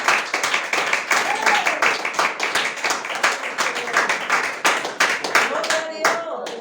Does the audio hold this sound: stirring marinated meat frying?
no